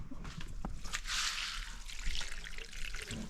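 Water pours from a container onto a potted plant indoors, a steady splashing trickle with a few drips, close and moderately loud, no talking.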